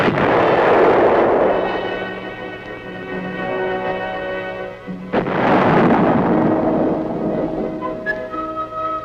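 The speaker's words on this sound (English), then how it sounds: "With a gun as large as this, muzzle blast is a potential source of damage and a hazard to the crew." A large tank gun fires on a proving ground, two heavy booming muzzle blasts several seconds apart, each a loud close roar that rolls and decays slowly into a lingering rumble.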